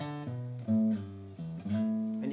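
Electric guitar playing a sliding riff, sustained notes gliding up toward an A, clear and alone with no talking.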